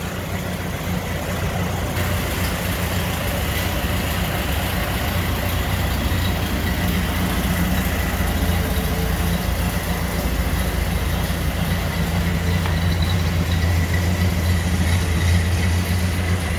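A 1930 Ford 5-window coupe engine idles smoothly and steadily, its low, even rumble running close and unbroken with no misfires throughout.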